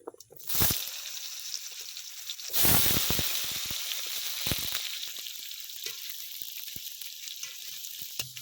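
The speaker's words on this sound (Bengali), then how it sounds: "এবার তেলের মধ্যে দিয়ে দেবো এই আলুগুলো" Potato pieces, cut into small cubes for a Bengali papaya-and-potato curry, sizzle and fry in hot oil, with two sharp bursts as they hit the pan, then a steady close crackle with scattered pops.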